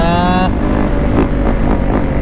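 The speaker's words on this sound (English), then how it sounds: "I sort of want to try the 2-stroke out." Yamaha YZ125 two-stroke supermoto motorcycle riding off-road, a loud, steady engine drone close by, opening with a harmonic whine that gives way to a rough, sustained roar with slight surges.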